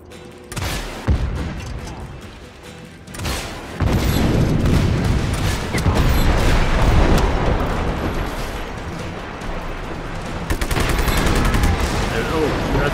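Just Cause video game battle with explosions and gunfire: heavy booms and dense volleys of shots in loud, sustained bursts, separated by brief lulls, with sharp cracks at the start and end.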